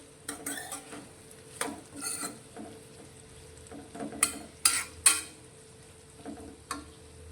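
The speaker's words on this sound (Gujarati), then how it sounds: "વચ્ચે વચ્ચે આ રીતે આપણે હલાવશું" Ivy gourd curry is stirred in a pan that cooks covered over a medium flame: a few scraping strokes of a utensil and sharp metallic clinks against the pan come in bursts between quiet stretches, with no talk.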